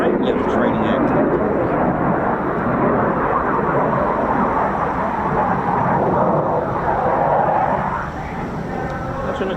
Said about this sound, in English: this is a great little training aircraft